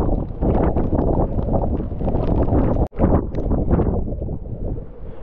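Strong gusting wind of 40 to 50 km/h on an exposed fort trail near Matheran, roaring loudly and continuously across the microphone with buffeting, and one brief dropout near the middle.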